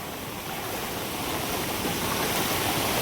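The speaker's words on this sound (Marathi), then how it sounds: "पूर्ण असं भातामधून पाणी जाऊ राहिलं आहे बघा किती पाणी वाहू राहिले इकडं" Girna river floodwater rushing across flooded rice fields and over a bridge, a steady, dense roar of moving water that stays loud and continuous throughout, with no voices.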